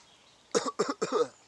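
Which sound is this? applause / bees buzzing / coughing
coughing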